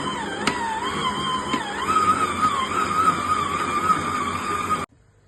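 A stand mixer kneads salted bread dough at speed 2, giving a steady, loud mechanical whir with a whining motor tone that runs without a break, then cuts off abruptly near the end.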